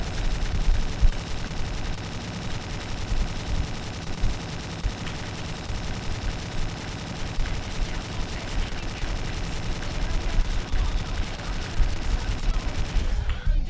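Rapid sustained gunfire in the video game Slendytubbies 3, a dense, continuous fusillade of overlapping shots that runs loud and unbroken for over ten seconds before cutting off abruptly.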